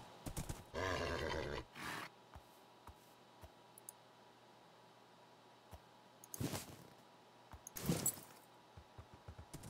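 Horse sounds from the video game Minecraft: a few short, loud bursts of whinnying and neighing, each separated by quieter stretches with faint clicks and thumps, with no talking.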